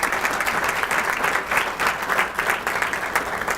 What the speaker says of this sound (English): Could you please join me in giving all our sponsors a round of applause for support?